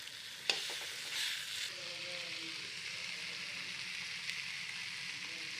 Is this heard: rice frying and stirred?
yes